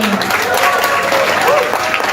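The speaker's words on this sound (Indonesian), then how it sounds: "Ini tepuk tangannya kurang kencang ini." A crowd claps in a dense, continuous burst, loud and close, cutting off abruptly at the end.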